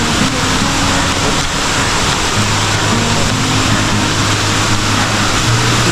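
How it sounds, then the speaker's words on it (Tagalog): Pag-ibig Falls, a waterfall, pours in a steady broadband rush of water that stays loud and continuous throughout, with faint low engine-like hum and no speech. "So ito na yung Pag-ibig Falls."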